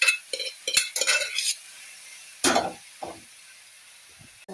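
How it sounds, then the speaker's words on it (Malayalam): Boiled jackfruit seeds and drumstick leaves tossed into a pan of spluttered mustard seeds, heard as scraping, clattering stirs in short bursts with light sizzling between quieter gaps. "എന്നിട്ട് അത് ഞാൻ ഈ മുരിങ്ങയില കടുക് വറുത്തതിനകത്ത് ഇടുവാണ്."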